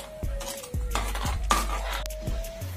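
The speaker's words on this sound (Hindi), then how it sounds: "मसालों को चमचे की मदद से अच्छे से मिलाएंगे।" Spoon stirring spices and jaggery chutney in a pan, with repeated scraping clinks of metal against the pan in an uneven rhythm, close and moderately loud, a steady low hum underneath.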